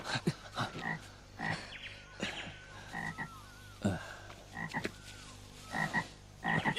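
A frog demon character in a Javanese legend drama is voiced by a dense chorus of frogs croaking, with repeated raspy pulses and short trilling calls, fairly close and prominent, with no talk heard.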